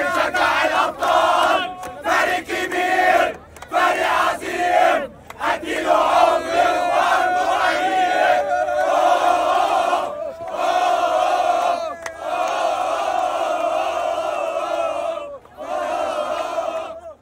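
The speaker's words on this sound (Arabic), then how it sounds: "احتفالات جمهور النادي الأهلي بهذا التتويج" Al Ahly supporters celebrate a Super Cup title, a big crowd chanting in rhythmic unison, with loud surging voices broken by short pauses between chant phrases.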